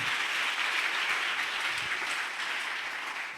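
A church congregation applauding and acclaiming, a dense, sustained roar of clapping that stays even and full for several seconds before easing slightly at the end.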